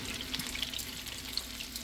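Vinegar poured into a hot pan of sautéed onion for Dominican mangú, making a steady close hiss and watery splash that runs unbroken for about two seconds with no talking.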